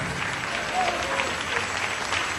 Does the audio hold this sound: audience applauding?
yes